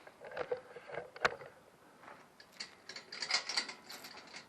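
A ratchet tightens a tree-saver strap while a tree is winched: a few sharp metallic clicks close by, then a quieter run of rapid ratcheting clicks.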